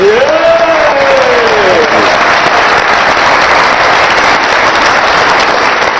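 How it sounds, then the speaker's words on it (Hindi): Studio audience applause for a guest on a TV comedy talk show, loud and dense, with a brief whooping cheer early on over the continuous clapping. "अब आप सबकी तालियों में रियाजुल हक जज"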